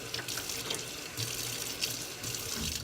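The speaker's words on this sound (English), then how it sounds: "we're going to get this wet with hot water" Hot water runs steadily from a tap into a sink for wet felting on glass jars, a close, continuous hiss and splatter with slight surges.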